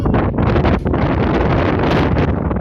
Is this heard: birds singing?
no